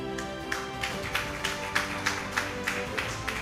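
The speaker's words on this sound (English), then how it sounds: "The way you clap for a regulator is different." Sparse, evenly spaced claps from an audience at a forex bureau and money remittance association's 25th anniversary celebration in Uganda, faint and steady with a roughly half-second rhythm over a low background hum.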